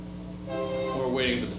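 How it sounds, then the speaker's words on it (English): A train passing by outside, its horn sounding as a rising tonal blare over a low rumble, heard at a distance and faint, with indistinct voices nearby. "We're waiting for the train to go by, Vincent"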